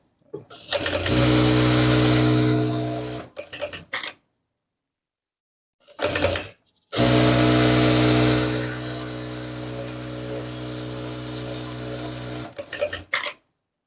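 A Juki industrial sewing machine runs in two long loud bursts with a short one between, each ending in a quick clack of the automatic thread cutter, with silence between runs.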